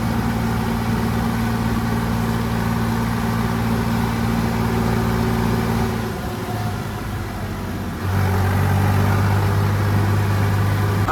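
A Preet 6049 and a John Deere 5210 tractor are locked in a tug-of-war, their engines roaring loud and close with a steady low drone. The drone dips briefly, then comes back heavier as the load changes.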